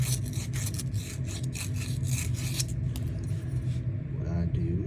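Close, rhythmic rasping strokes of sanding on a part during an LG refrigerator compressor replacement, over a steady low hum, with the scraping fading out near the end.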